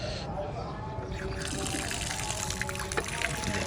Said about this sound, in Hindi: सबसे पहले तो करते हैं इनका पानी चेंज।